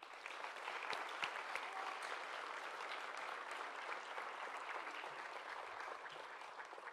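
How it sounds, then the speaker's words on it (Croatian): Audience applause for a student after his performance of an anthem at a media technicians' school ceremony, a steady dense clapping from a crowd sustained for about seven seconds without talk. "ja vas lijepo molim jedan aplauz za njega"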